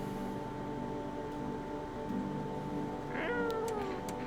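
A cat in a video game gives a short, soft meow near the end, after a quiet stretch of steady low hum and faint ambient tones.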